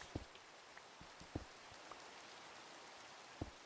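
Rain falls in the video game Minecraft as a quiet, steady patter with a few distinct drop taps scattered throughout.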